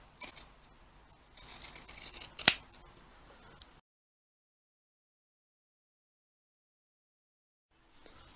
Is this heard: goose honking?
no